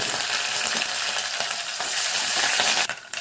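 Dried red chillies, dal and curry leaves fry in hot oil for a tempering, a loud, dense, continuous crackling sizzle close by that cuts off sharply near the end.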